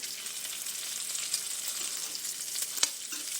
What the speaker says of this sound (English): the bacon kind of needs to be flipped. What I do is kind of slightly scoop the fork underneath and flip it over.